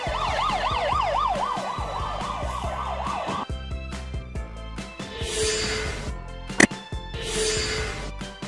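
A fire engine siren wails along a London street, a loud two-tone warble that cycles steadily for about three seconds and then cuts off, leaving traffic rumble with a sharp bang and another passing siren fainter in the distance.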